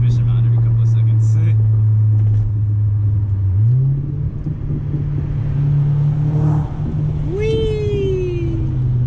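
Audi B6 A4 with a full ECS catback exhaust droning steadily while driving at night, a low engine note that climbs in pitch as it accelerates, with brief voices and a rising whine near the end.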